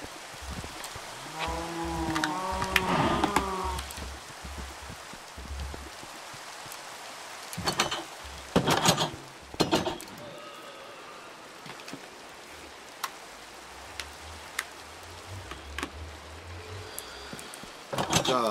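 Steady rain in Minecraft Java Edition 1.19.3, a soft continuous hiss under scattered game sounds and brief tones, with a few louder clicks and a low hum later; a voice talks briefly at the start.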